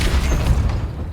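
A Depulso spell fired in Hogwarts Legacy, a short, heavy booming blast with a deep rumbling body that fades within about a second.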